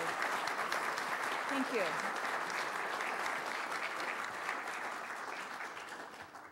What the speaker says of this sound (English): we'll give you a quick round of applause